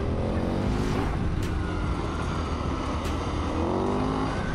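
A 2017 KTM 1090 Adventure R motorcycle engine runs loud and steady under throttle, a continuous close-up drone with dense low harmonics and wind rush throughout.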